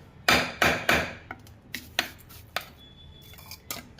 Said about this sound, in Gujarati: હવે તે ગોળને આસાર ગોળને આસાર મસાલામાં બરાબર મિક્સ કરી દેવાનું